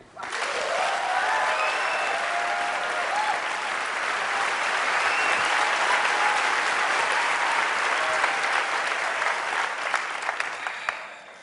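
Sustained applause from a large crowd, dense steady clapping that fills the whole stretch and fades slightly at the end.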